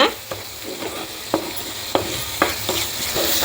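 Coriander powder and other ground spices sauté in a pan for soya chunk keema, a soft steady sizzle cut by regular spatula scrapes about every half second, close with no talking.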